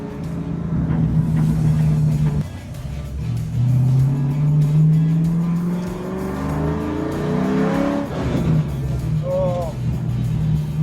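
An SN95 Mustang engine hums and rumbles steadily, its pitch sagging and wavering under strain as the cooling fans switch on, with someone talking over it.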